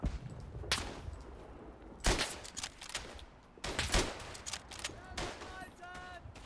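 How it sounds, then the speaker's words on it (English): Rifle and carbine fire is traded in the World War I shooter Verdun, several sharp shots cracking in separate bursts, some near and some farther off, with short gaps between them. "You fired at me, you nearly got me, but in the end I outshot you."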